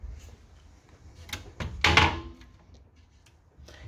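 A hinged stove cover on a 2021 Montana High Country 330RL RV is flipped back over the 3-burner cooktop, giving a couple of light knocks and then one louder thunking clatter in a quiet interior.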